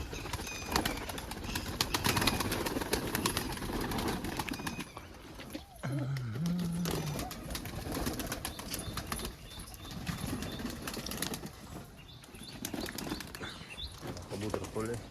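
Pigeons in a village flap their wings and coo while grain is scattered for them to peck, with the wingbeats and calls coming in bursts over steady outdoor background noise.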